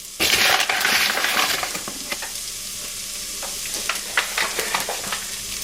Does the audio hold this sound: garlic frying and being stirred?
yes